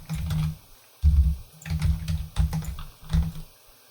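Computer keyboard keys pressed in short bursts of clacky typing, several clustered groups of quick taps separated by brief pauses, close and clear with no talking.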